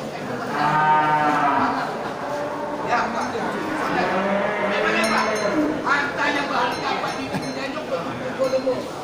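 Several deep, drawn-out moos from water buffalo at a livestock market, loud and close, overlapping with a busy market crowd and background chatter.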